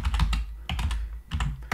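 Quick bursts of clattering keystrokes on a computer keyboard as a command is typed at a command prompt, close and clear, with short pauses between bursts and no talk.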